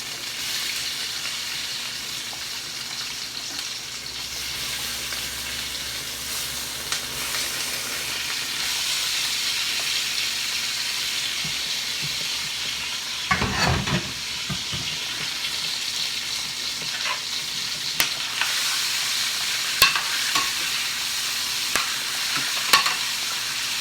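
Onions and lemons taken from a stuffed turkey sizzle in a turkey roasting pan, a steady close hiss running throughout with scattered pops and a short burst of stirring clatter partway through.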